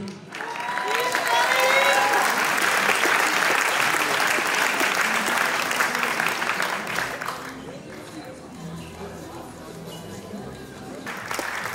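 Strong applause at a NABBA Austrian bodybuilding championship for the women's bikini class, a large crowd clapping loudly for about seven seconds before fading, then a voice speaking over scattered residual claps.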